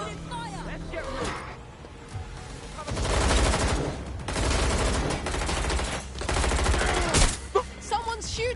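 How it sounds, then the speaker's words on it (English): Gunfire bursts in a PS4 game, loud volleys from about three seconds on, in stretches around 3–4 s, 4.5–6 s and 6.5–7 s, over game sounds, with voices talking in between. "Someone's shooting."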